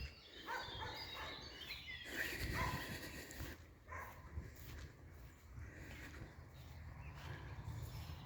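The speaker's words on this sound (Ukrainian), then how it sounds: "Собака гавкає" A dog barks and whimpers at a distance in a park amid outdoor background noise, the calls fairly faint and irregular.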